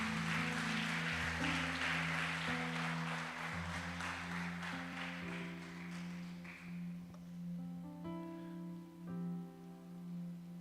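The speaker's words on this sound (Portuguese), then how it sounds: "Dê um aplauso ao Senhor Jesus" Church congregation applauding at a Pentecostal service, the clapping dense at first and then fading over several seconds above sustained keyboard chords.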